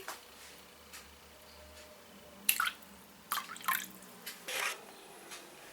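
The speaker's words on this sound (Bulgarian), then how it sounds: "слагам и малко оцет" Splashy bursts of vinegar pouring into a large pot of lukewarm water lined with a cloth, prepared for boiling Easter eggs; a few short separate pours after faint drips, close by and without talk.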